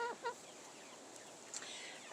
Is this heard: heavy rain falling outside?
no